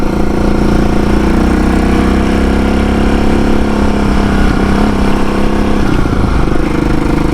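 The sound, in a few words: homebuilt motorcycle engine running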